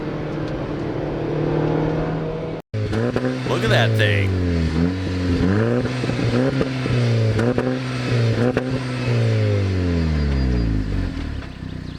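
A Euro-market Audi A1 Quattro engine revs up and down repeatedly, rising and falling in pitch close by, while a person speaks briefly over it.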